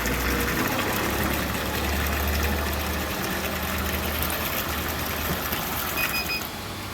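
A coin-operated water ATM dispensing five litres for five rupees runs with a steady, close mechanical pump hum and rushing water. The sound is continuous for about six seconds, then eases slightly at the very end.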